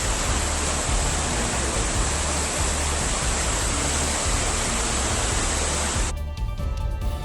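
Floodwater rushing after days of heavy rain and a landslide in Ramban, a loud continuous roar like a torrent or waterfall that holds steady and then drops slightly near the end.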